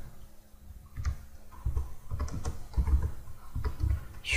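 Fingers type a project title on a computer keyboard in short irregular bursts of close, soft key clicks, with brief pauses between runs.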